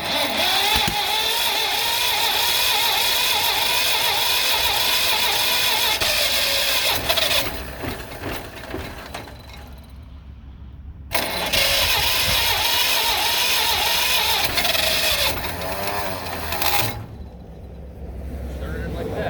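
An old John Deere B tractor engine that has sat unused for many years runs and is given throttle, a loud, continuous, rough mid-pitched engine roar that rises and dips, with voices talking over it.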